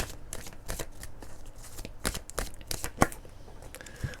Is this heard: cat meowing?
no